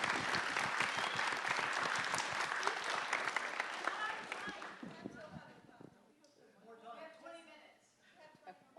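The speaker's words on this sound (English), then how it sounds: "round of applause." Audience applause at a live journalism panel event rises in a lively burst of clapping for several seconds, then dies away as voices take over the room.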